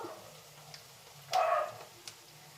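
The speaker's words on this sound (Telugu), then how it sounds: "బయట సౌండ్ కోతులు కుక్కలు కొట్లాటికి దిగిండాయి" A single dog barks once, short and sharp, at a moderate distance outside amid quiet background noise, during a fight between dogs and monkeys.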